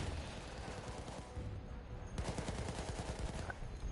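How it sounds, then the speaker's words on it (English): Artillery fire in a multiplayer war game, distant booms and rapid gunfire crackling in the background, with a denser burst of shots in the second half and no talk. "There's some artillery coming down. You can hear it."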